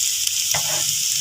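Carrots and other vegetables stir-frying in a pan, a loud hiss of sizzling oil with a brief stirring scrape, close by.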